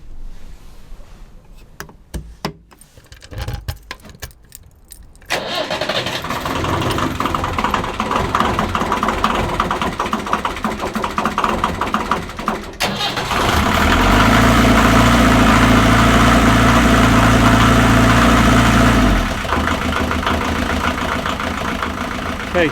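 Narrowboat engine, freshly reconnected after a cooling system repair, cranks with a few irregular knocks and then catches into a loud, steady low idle that deepens and rises for a stretch before settling back, heard close up.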